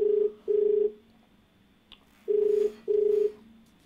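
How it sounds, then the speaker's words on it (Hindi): Phone ringback tone on a call-in TV question show: two pairs of steady, moderately loud double rings separated by a pause, alone with no talk. "और चलिए फोन लगाते हैं अपने अगले कॉलर को।"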